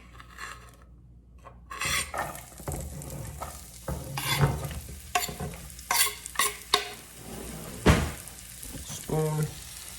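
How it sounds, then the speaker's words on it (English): Onion, zucchini and garlic cooking in olive oil, heard as a steady sizzle broken by repeated scraping and stirring strokes from a spoon, close and moderately loud, with brief quiet at the start before the food goes in. "now we're gonna cook the onion and the zucchini and the garlic. Start with a little olive oil."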